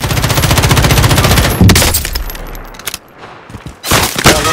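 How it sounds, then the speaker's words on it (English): Loud, close automatic gunfire in a military shooter game, with a fast, steady stream of shots that breaks off into a few scattered bangs and a short quiet gap, then another burst. "Under hostile fire."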